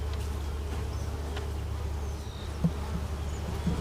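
Honeybee swarm in a barn, a dense, continuous low buzzing hum from many bees close by, with a few soft knocks and handling sounds.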